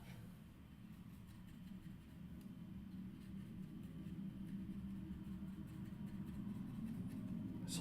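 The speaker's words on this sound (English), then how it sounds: "It's a loud vehicle." A loud truck engine rumbles outside as a faint, steady low drone that swells slightly over several seconds, distant and muffled through walls, with no talk.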